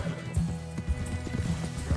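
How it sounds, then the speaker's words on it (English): Rhythmic clip-clop of horse hooves at a steady trot, with a brief snorting whinny, in a dense layered soundscape from the video game Red Dead Redemption 2. "Get that horse in line, Arthur."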